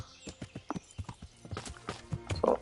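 Horse hooves clip-clopping in Kingdom Come: Deliverance, a brisk irregular run of hoof strikes on ground followed by a short whinny-like snort near the end, moderately quiet and close.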